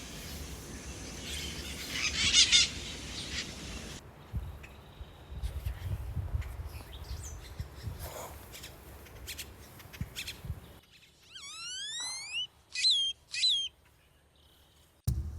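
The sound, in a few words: bird calls in rainforest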